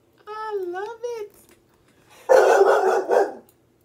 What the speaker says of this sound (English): I hope it's a package, Shadow, that you're barking at.